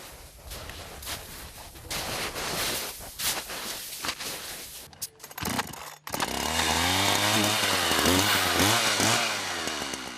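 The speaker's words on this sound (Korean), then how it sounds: "고른 나무의 위치를 잡으면 곧바로 톱질이 시작된다." A chainsaw fells a tall tree during winter logging in deep snow in a Siberian forest, first heard cutting at a distance, then after a brief pause roaring loud and close with revving pitch changes as it bites into the trunk.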